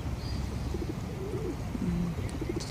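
Pigeons coo softly beside gulls near a park fountain and duck pond, a few low murmuring calls rising over steady outdoor background noise, with faint higher bird chirps.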